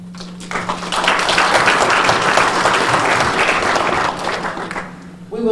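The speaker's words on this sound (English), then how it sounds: "Let's give them a big applause." A conference audience at an Educators Rising Arkansas event applauds its panelists, loud dense clapping that swells quickly and holds steady for several seconds before tapering, with a low hum underneath.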